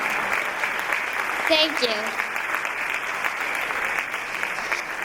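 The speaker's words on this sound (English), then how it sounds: "I kind of want you to clap for them too." Audience clapping for the musicians after a Bharatanatyam arangetram dance show, steady sustained applause from a crowd filling the hall, with a brief spoken thanks over it.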